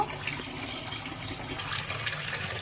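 Cut potatoes are washed in water, with soft sloshing and running water close by, a fairly quiet, continuous splashing and no talk.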